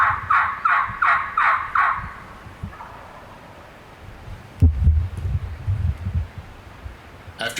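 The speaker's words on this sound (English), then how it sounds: "After getting on this vocal gobbler and trying to call him down the mountain, Tori and Jason realize" Wild turkey gobbler calling in the steep Appalachian Mountains of southwest Virginia during spring season, a loud rattling gobble in quick repeated bursts, then quieter rustling and footsteps through leaves outdoors.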